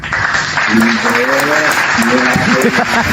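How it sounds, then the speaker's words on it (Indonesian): Dense, steady crowd applause filling about three seconds, with a few voices carrying over the clapping. "tepuk tangan buat IBES."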